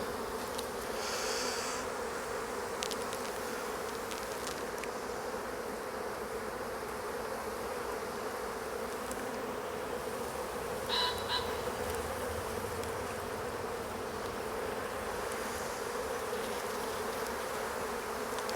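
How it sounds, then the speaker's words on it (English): Honey bees buzz around an open hive during a spring inspection, a soft steady drone that holds throughout with faint scattered outdoor sounds. "But generally the bees are looking quite healthy."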